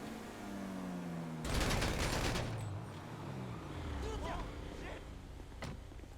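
Gunfire in Grand Theft Auto V Online: a loud burst of rapid automatic shots rattles for about a second, with later scattered single shots and engine hum in the background, while players talk.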